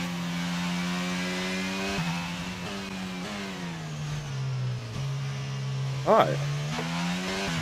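F1 car engine in the F1 22 racing game, a high droning whine that wavers in pitch as the car rolls slowly toward its grid spot, with a brief sharp rev spike near the end and a short spoken word over it.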